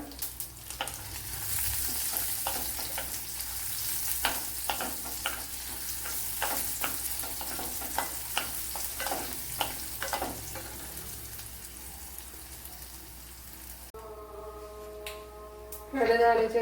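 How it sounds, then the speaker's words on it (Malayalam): Dried red chillies fry in hot oil with onion in a Kerala-style pappadam theeyal, a steady crackling sizzle with repeated sharp spatters of stirring, ending in a brief clatter. "വറ്റൽ മുളക് ഇട്ട് കൊടുക്കുക"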